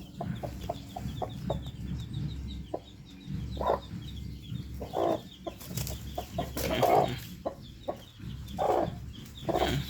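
Black Muser game chickens, a hen with her brood of ten chicks, cluck steadily nearby while thin chick peeps repeat in the background, with occasional louder squawks.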